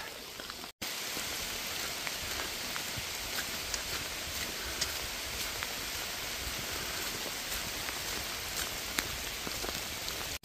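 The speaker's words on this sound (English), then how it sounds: "The rain's back and harder than ever." Heavy rain pours on hikers along the Appalachian Trail on a hot day, a steady dense hiss of drops hitting leaves and gear, close and continuous without letup.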